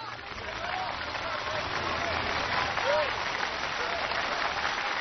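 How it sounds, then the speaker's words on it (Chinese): Warm, continuous audience applause for the Beijing team at a televised choir competition final, a broad steady clapping texture from a large crowd that holds level throughout with faint voices mixed in. "也把最热烈的掌声送给北京队。"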